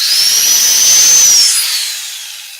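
A power drill bores into a workpiece with a loud, sustained high-pitched whine that rises and holds, then winds down and fades toward the end, with no talking.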